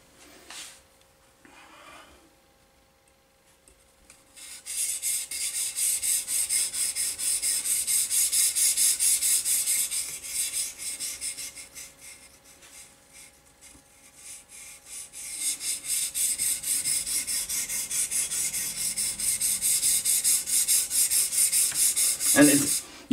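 A knife blade is drawn repeatedly through a cheap metal-rod sharpener, producing raspy, gritty scraping strokes in two long bursts with short quiet gaps, close and alone with no talking.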